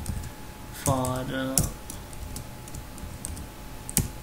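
Close computer keyboard typing while writing servlet code, a few crisp key clicks in short bursts under a brief spoken word and steady background hiss.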